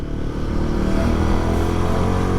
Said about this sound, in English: Just listen to the exhaust note.